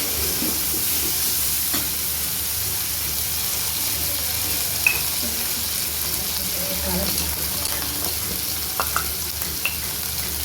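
Spices sizzle and crackle steadily in hot oil as tempering is done for hotel-style veg kurma, with a continuous frying hiss and occasional stirring clinks throughout; a voice is faintly present in the background.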